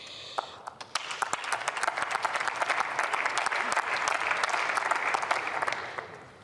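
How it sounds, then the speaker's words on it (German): A parliamentary chamber breaks into applause during a debate on the Morocco earthquake and Libya flood disaster: dense, sustained clapping that builds after a few scattered early claps and holds steady, loud and close, before tapering at the end. "Applaus"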